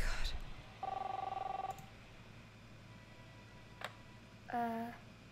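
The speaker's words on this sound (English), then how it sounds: "Chris, answer the phone, please" A telephone rings in the video game Captain Spirit, a single electronic ring burst near the start. Quiet voices and small clicks and sounds follow.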